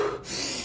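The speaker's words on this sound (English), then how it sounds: "you're gonna breathe deeply in through your nose," A single deep breath drawn steadily through the nose and let out through the mouth during a guided Wim Hof breathing round, close and fairly loud, with a soft airy rush that holds for most of the moment.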